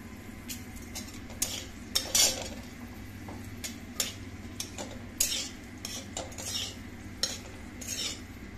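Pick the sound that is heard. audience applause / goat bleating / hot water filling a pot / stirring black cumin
stirring black cumin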